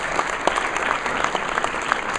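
Audience applause at a Bend community event, a dense steady wash of many hands clapping continuously throughout at moderate loudness, with no talk over it.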